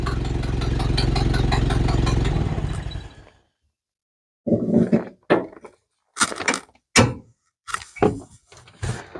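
A Model A Ford engine runs steadily after a cold start with a noisy leaky exhaust, then cuts off to silence, followed by a series of scattered clunks and clatters.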